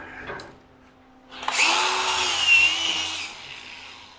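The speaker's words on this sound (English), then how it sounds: "I need to grind that weld down." An angle grinder grinds down a weld on steel on a firewood bundler, starting up close after a short pause and whining steadily for a couple of seconds before tapering off.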